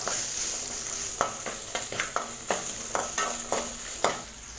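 Whole small onions sautéing in a pan for sambar, an even frying hiss with a string of regular spatula scrapes, close up with no voices.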